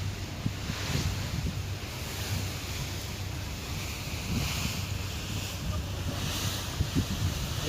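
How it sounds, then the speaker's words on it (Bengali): Big river waves roll around a passenger launch boat out in deep water, a steady low rush and wash with wind buffeting the microphone, continuous and fairly faint. "যখন আপনার যে কোনো লঞ্চ গভীরে যাবে তখন কিন্তু এরকম ঢেউ আসবে"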